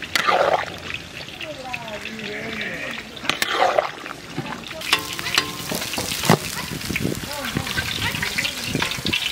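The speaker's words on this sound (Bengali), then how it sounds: "এখন আমরা ভাজা গুঁড়ো মশলাটা দিয়ে দেবো।" Fried ground spice mix being stirred into a fish head curry of katla with pui shak, sizzling oil and wet scraping stirs heard close, with a voice talking over parts of it.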